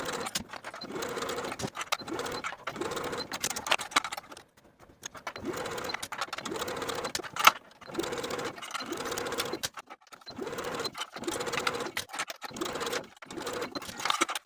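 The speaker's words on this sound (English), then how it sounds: "Then I'll baste the shelf bra and the top of the cami together all the way around." A sewing machine basting a shelf bra to the top edge of a cami, running in repeated short bursts of quick rhythmic stitching separated by brief pauses, close and clear with no talking.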